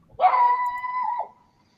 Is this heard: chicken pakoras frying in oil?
no